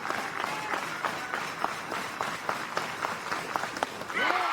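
A softball crowd at Rhoads Stadium in Tuscaloosa, Alabama, claps and cheers in a continuous roar with distinct claps punching through, while announcers' voices carry over the top.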